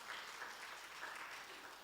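A church congregation claps for God together, a steady, even wash of hand clapping that sounds faint and distant throughout.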